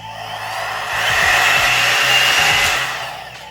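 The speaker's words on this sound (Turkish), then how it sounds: "fön makinesi gibi ses çıkartıyor" A Shibowavy hair-straightening dryer brush runs with a loud, steady high-pitched fan whine and airflow hiss, swelling slightly in the middle and easing off at the end, with no talk over it.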